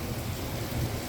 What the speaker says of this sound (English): that's too much thunder for me